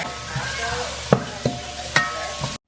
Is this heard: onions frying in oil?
yes